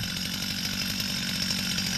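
Chainsaw used by a forestry worker on a logging job runs at a steady high idle, a close, loud buzzing engine with a fast rattling pulse and no voices.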